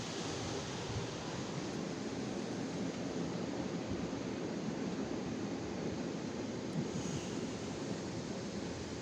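A touch-free Autec EV1 automatic car wash sprays wax and rinse water over a car, a steady, dense, hissing spray that roars on without a break for the whole stretch.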